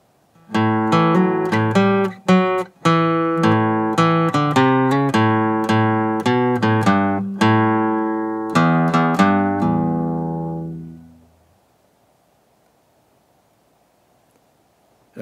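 Acoustic guitar picks the bluegrass tune Old Joe Clark, measures five through eight, as a crisp series of plucked notes in a steady rhythm for about eleven seconds, then a short ring-out into silence.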